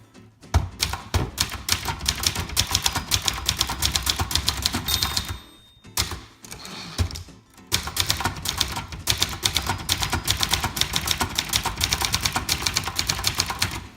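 Rapid typing on a 1978 Brother Charger 11 portable typewriter, with crisp mechanical key strikes in quick bursts, a brief pause and a carriage movement midway, then steady clattering resumes, loud and close.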